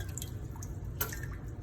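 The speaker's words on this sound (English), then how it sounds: "Or let all the water out." Water from a pot of Kool-Aid-dyed cotton drains and drips steadily, a close, continuous trickle with a brief splashy burst partway through, no talking.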